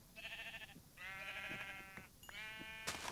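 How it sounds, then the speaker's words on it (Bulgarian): Sheep in the video game Minecraft bleat three times in a row, clear wavering calls with short pauses between them, followed by a sharp click. "Овце."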